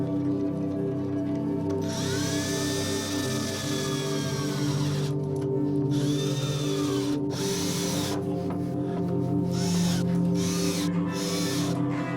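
A power drill driving self-tapping screws into clamped wooden parts of a hanging shelf, bursts of rising and falling motor whine separated by short pauses, close and loud over a steady background hum.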